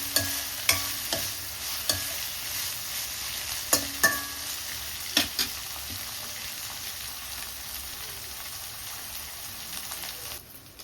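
Dried prawns fry in a pan under a soft continuous sizzle, with regular sharp taps and scrapes of stirring through the first half that fade to a steady hiss.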